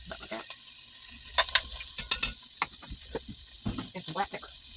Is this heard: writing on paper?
no